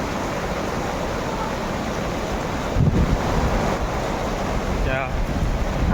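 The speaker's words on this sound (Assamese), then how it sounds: "দেখিব পাইছে পানীৰ পৰা ঢৌ পৰি আছে" Dirty water breaking in small waves near an industrial site, heard as a steady broadband wash with wind buffeting the microphone and a brief squeaky chirp near the end.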